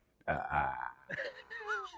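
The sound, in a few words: burp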